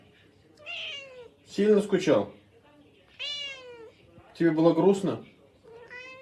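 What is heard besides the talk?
cat meowing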